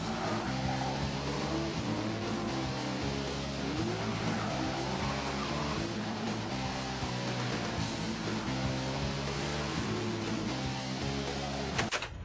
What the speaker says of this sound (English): Now, Year One said that we could take you for a spin in it